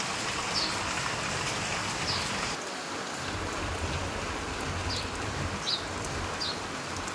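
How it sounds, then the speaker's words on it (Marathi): Continuous rain falls in a steady, even hiss of drops on surfaces, moderately loud and unbroken, with faint bird chirps occasionally poking through. "पाऊस लगातार चालू आहे. मला नाही वाटत हा पाऊस थांबेल आज"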